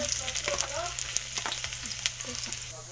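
Garlic frying in a pan over a wood fire, a quiet, steady crackling sizzle with scattered small pops and faint stirring, close and with no voices.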